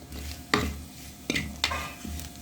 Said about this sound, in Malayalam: ഇനി നന്നായിട്ടൊന്ന് ഇളക്കി കൊടുക്കുക.